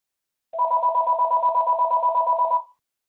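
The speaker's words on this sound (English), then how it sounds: "It's somebody's phone." A phone rings nearby in one warbling electronic burst lasting about two seconds, made of rapid pulses on a steady two-tone pitch. It sounds alone, with silence before and after.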